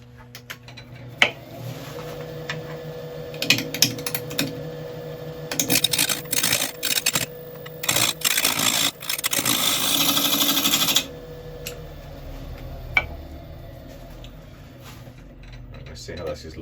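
A bowl gouge makes pull cuts on a natural-edge redwood bowl spinning on a lathe, producing bursts of rough, chattering shaving noise between quieter stretches of motor hum, with a few sharp taps.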